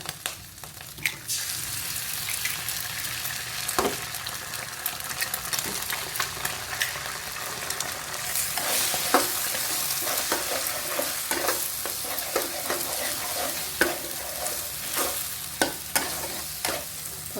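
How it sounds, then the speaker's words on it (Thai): An egg fries in butter in a pan while making shrimp fried rice, with a continuous sizzle and repeated spatula scrapes and clinks against the pan. "เนยใส่ไข่ลงไปเลยค่ะ"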